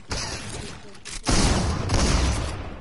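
Shotgun blasts in the Fortnite video game, with a purple shotgun mentioned: a couple of loud, booming shots in quick succession, each leaving a rough, noisy tail.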